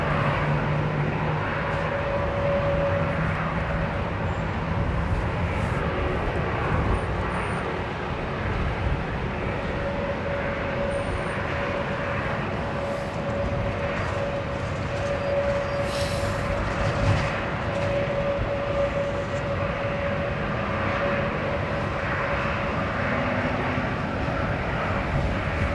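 An American Airlines Boeing Dreamliner at London Heathrow gives a steady, broad jet engine roar that holds at a constant level from start to finish, close and loud, with no talk over it.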